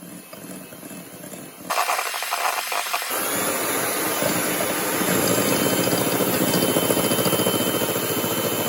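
An electric mixer beats choux pastry dough with eggs, its motor kicking up to a loud, steady whirring hum that continues to the end, close and unbroken.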